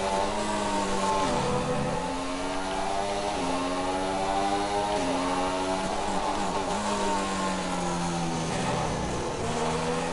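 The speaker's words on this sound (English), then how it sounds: "Wonderful sound the McLaren makes there." McLaren Formula 1 car engine in the F1 2016 racing game, a high-pitched screaming whine running continuously at maximum revs, climbing through gears with repeated brief drops and rises in pitch.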